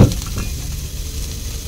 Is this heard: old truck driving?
no